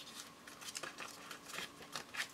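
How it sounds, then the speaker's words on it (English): Scissors trim paper during a chalk paste art journaling project: a quiet series of crisp, irregular snips close by, with no voices. "Grab the scissors and trim it away."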